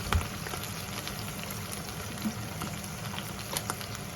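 Garlic softening in olive oil in a pan, a quiet steady bubbling sizzle with scattered small pops and crackles, heard close and alone.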